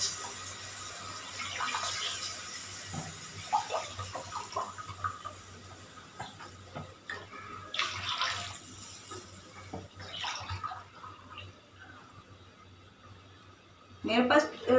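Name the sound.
water being poured into rice for aloo tahari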